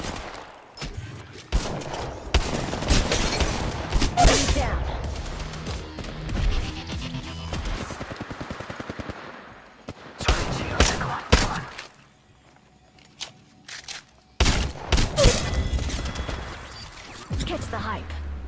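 Gunfire in the Apex Legends Mobile video game, loud bursts of rapid shots with crashing impacts in several clusters and a quieter gap between, mixed with in-game voice lines.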